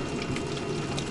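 Water trickling and gurgling steadily into the Burlak all-terrain vehicle during an expedition across roadless far-north terrain, faint and continuous with a low mechanical hum beneath and no talk.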